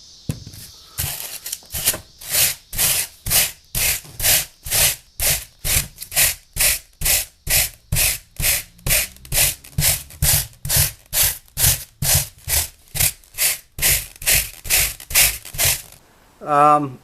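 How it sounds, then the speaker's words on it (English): Rhythmic back-and-forth rasping strokes of sandpaper on motorcycle seat foam, about two per second, scrub steadily across the surface for a long stretch, close and fairly loud. "come back with my sandpaper and my Scotch-Brite for the final sanding"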